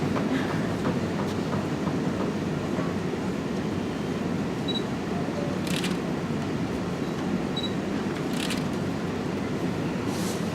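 A steady mechanical rasp of a gramophone's crank being wound continues without pause, with a few faint clicks and ticks on top. No one speaks.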